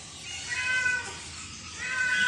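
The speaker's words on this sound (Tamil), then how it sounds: "கேட்டு, பூனை" A cat at a Dubai pet market meows twice, loudly and nearby, against busy indoor market noise.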